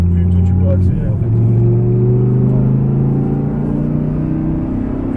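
An Audi R8 engine on a race circuit drones loudly and steadily, with its pitch stepping up as it accelerates. The engine is heard close, with talk over it.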